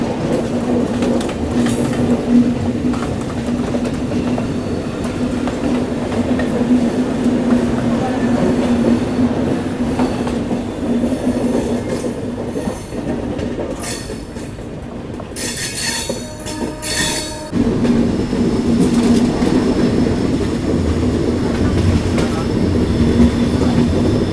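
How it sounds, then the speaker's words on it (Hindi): A Chennai local train runs on a parallel track beside a Humsafar express leaving Chennai Egmore, with a continuous rumble of wheels, clattering rail joints and brief metallic squeals, close and loud throughout. "ये लोकल जा रही है चेन्नई बीच रेलवे स्टेशन।"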